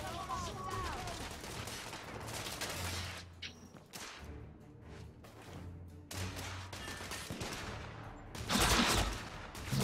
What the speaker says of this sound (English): There's a lot of people shooting